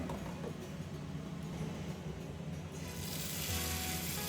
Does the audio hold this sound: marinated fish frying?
yes